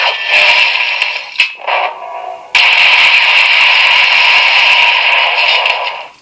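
A DX Ninja Dueler toy plays its loud electronic round 3 tactical finish effect: harsh buzzing bursts and short stutters, then a sustained blaring stretch that cuts off at the end.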